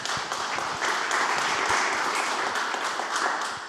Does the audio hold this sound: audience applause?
yes